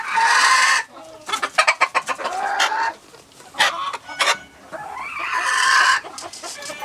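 Chickens cluck and squawk loudly nearby, with bursts of rapid clucking and a drawn-out rooster-like call near the end.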